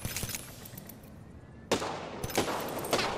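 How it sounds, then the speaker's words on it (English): Gunfire in Apex Legends, a faint opening shot, then a quiet lull before two loud bursts of rapid shots, each cutting in sharply and ringing on. "I am taking fire, friends."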